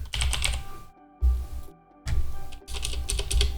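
Rapid clattering keystrokes on a computer keyboard while commands are entered for coding, arriving in close, dense bursts separated by brief pauses, with no voices.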